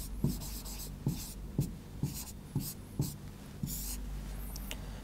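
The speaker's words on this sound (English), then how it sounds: "So let's write the reaction." A chemical reaction scheme being written out by hand, heard as six or seven quick, evenly spaced strokes that are close and fairly loud, ending in a longer scratching stroke.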